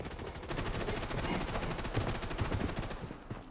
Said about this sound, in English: I feel like someone trying to shoot me